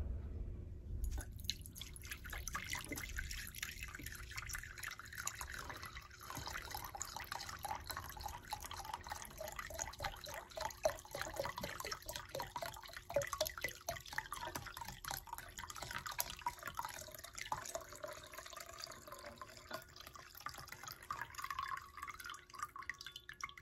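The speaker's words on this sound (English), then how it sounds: "I'm going to pour some of this in to make it exactly 2 cups" Liquid is poured into a measuring cup for stabilizing soft lapidary stone, giving a close, quiet trickle with dripping and splashing that goes on for a while. No one speaks.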